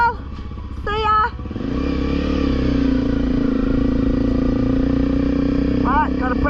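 A woman's adventure motorcycle starts and pulls away on a wet road in Tasmania, Australia, its engine rising to a loud, steady drone close by, with a brief voice near the start and more chirpy sounds near the end.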